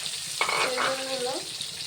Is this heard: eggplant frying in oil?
yes